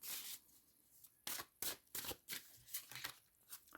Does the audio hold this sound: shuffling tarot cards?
yes